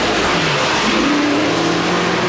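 Race car engine revving loudly and continuously at a GP3R 100 race, a steady near roar with rising engine pitch throughout.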